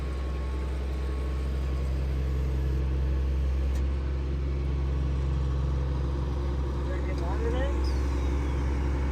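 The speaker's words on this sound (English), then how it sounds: "So the bagger drives itself," A self-driving silage bagger runs on a custom-farming job, giving a constant deep engine rumble and hum that stays loud and steady throughout.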